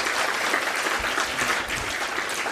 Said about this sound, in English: Very well deserved round of applause.